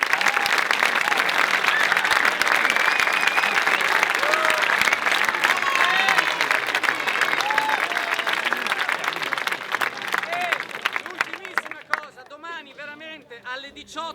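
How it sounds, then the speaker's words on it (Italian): A festival audience gathered at a theatre in Seneghe applauds loudly and continuously, a dense wash of clapping that fades toward the end as a few voices emerge. "Quindi un applauso."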